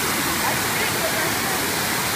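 Water rushes through rocks beside a waterfall in a forest, a close, steady, dense roar with no pauses.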